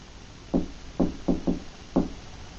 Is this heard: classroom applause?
no